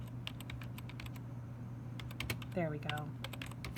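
Keys clack in quick irregular bursts on a computer keyboard as text is typed into a note box, steady and close under low background hum, with a voice briefly speaking near the end.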